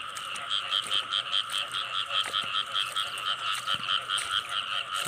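Mating pairs of frogs croak in a steady, rhythmic chorus of repeated bright pulsing calls, close and loud throughout, with no voices.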